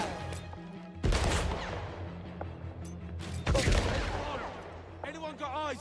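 Gunfire from a shooter in a military video game, delivered as loud bursts of rapid shots and crackling volleys with reverberant booms, two big barrages around a second apart, under game ambience and faint chatter.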